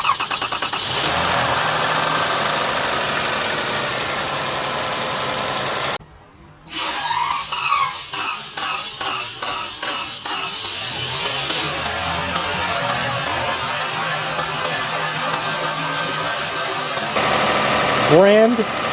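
A 2003 Toyota Camry LE V6 cranks over and starts, settling into a steady, smooth idle up close, with someone talking over the engine now and then.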